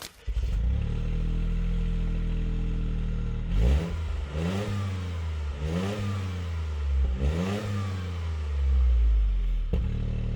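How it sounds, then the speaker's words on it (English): Toyota GR Corolla three-cylinder engine revving hard and alone: a steady high idle, then three rising rev sweeps bouncing against a soft limiter, ending with a brief blip. "Now, I think that's a pretty impressive sound coming from a 3-cylinder."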